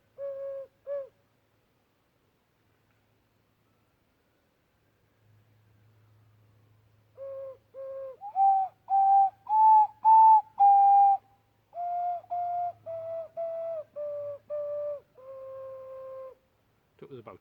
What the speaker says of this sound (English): But 12 hole ocarina.